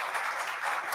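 Audience at a school board meeting applauding a student volunteer, a brief steady burst of many hands clapping at even loudness.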